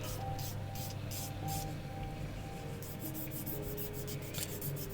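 A nail file rasps against fingernails in soft, quiet, repeated strokes, bursts of scraping that come in quick runs and then pause, close by and with no speech.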